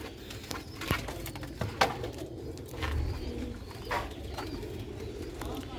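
Pigeons coo in low, soft, throaty calls, with a few scattered clicks and taps nearby and a light background hum, close by and moderately quiet.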